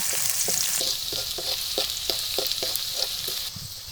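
Sliced onions, garlic and broken dried chillies frying in hot oil in a home kitchen, a steady bright sizzle with a regular series of soft scraping stirs from a spatula, close and fairly loud, no voices.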